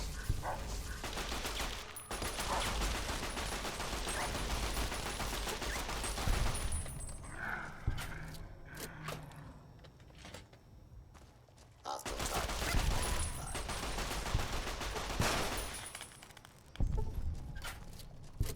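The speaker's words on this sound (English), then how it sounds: "Use a Cyberdog gun." Rapid bursts of gunfire from a Cyberdog gun in Fallout New Vegas, loud and sustained in two long stretches with a quieter lull between, overlaid with busy game ambience.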